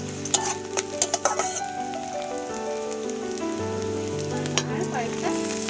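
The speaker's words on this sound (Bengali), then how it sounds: "এবার দেখো এর মধ্যে কয়েকটা শুকনো লঙ্কা দিয়ে দিলাম।" Dried red chillies hit hot oil already holding chopped onion and whole garlic cloves, sizzling in a loud, crackly frying hiss with sharp pops and occasional stirring clicks, close up and with nobody talking.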